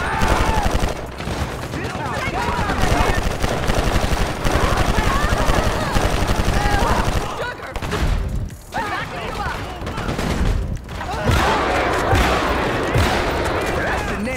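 Video game gunfire bursts loud and dense in sustained, rattling volleys, with a short lull midway before the shooting resumes, and a voice talks over parts of it.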